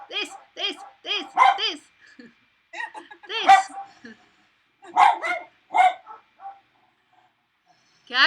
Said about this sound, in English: the dogs have decided to have a bark